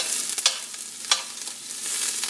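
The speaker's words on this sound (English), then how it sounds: "brown our onion," Onion browning in ghee in a pan sizzles steadily at close range, with a few sharp stirring scrapes breaking through the hiss.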